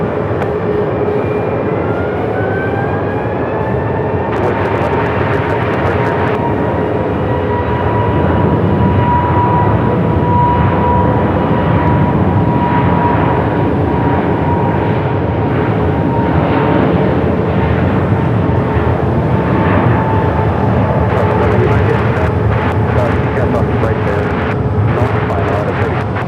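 A jet airliner goes around at Phoenix Sky Harbor airport, its engines roaring steadily with a sustained whine, loud and continuous across the whole stretch, with voices talking over it at times.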